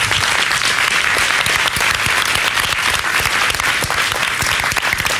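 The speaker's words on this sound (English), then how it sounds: "give her a round of applause" Sustained audience applause at a DIY hovercraft demonstration, loud and dense, a continuous wash of many hands clapping for the full length with no voices standing out.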